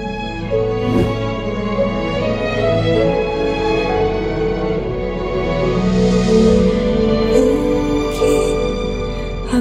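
Music playing through an upgraded audio system in a BMW E36 318i with processed front and rear speakers, DSP tuning and subwoofer, heard as a full, steady mix with strong deep bass and sustained tones, loud and continuous without talk.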